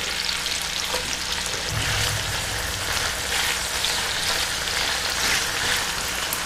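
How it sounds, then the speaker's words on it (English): Carrots and onions frying in hot oil for Ethiopian atakilt wat, a dense, loud, continuous sizzle and crackle close to the pan, with no voices. "you pour in your carrots, make sure it doesn't splatter on you"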